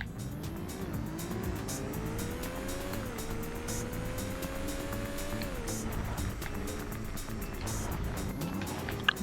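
Porsche engine in Need for Speed: Porsche Unleashed on PS1, revving steadily with rising pitch that drops at quick gear shifts, loud and continuous with faint tire noise.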